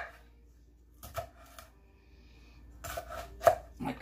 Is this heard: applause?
no